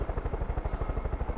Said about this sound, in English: I'm gonna get off this chopper on the second outpost